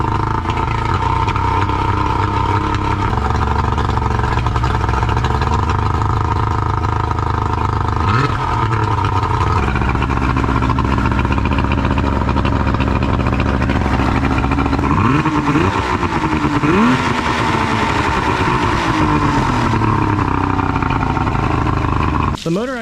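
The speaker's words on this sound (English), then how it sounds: "The motor actually runs pretty good now." A repaired outboard boat motor running steadily after being started, a loud, continuous engine drone with a couple of brief revs that rise and fall, with a voice talking over it.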